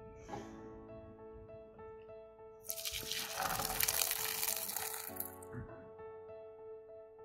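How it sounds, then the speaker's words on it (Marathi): Excess water pours out from a vessel of cooked chana dal being drained, a gushing splash that swells for about two seconds and then tapers, close by, with a steady background hum and no talk. "पाणी सगळं काढून टाकायचं"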